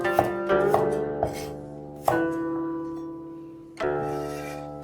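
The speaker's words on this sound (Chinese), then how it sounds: "去掉蒜根儿， 把它切成两半" A kitchen knife slices through garlic cloves on a cutting board in a handful of distinct, close chops with short pauses between them, each crisp knock followed by a lingering faint ring, with no talking.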